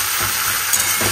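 Lightly mashed boiled flat beans are stirred in a hot pan, giving a continuous close sizzle and scraping texture for about a second, with no voices.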